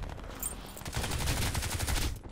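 Crysis 2 multiplayer gunfire: dense, continuous automatic shooting with bursts overlapping throughout, loud and busy with a brief lull near the start before the rattle intensifies.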